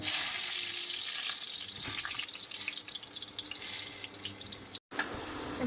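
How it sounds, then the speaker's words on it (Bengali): Potatoes fry in a pan during a home cooking session, producing a continuous loud sizzling hiss that carries on throughout, broken once by a short cut near the end, with no voice. "দেবো আলুগুলো ভেজে নিই"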